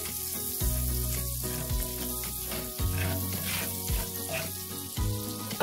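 Butter sizzles and crackles in a hot Dutch oven, a continuous loud frying hiss close by with a low steady hum underneath and no voices.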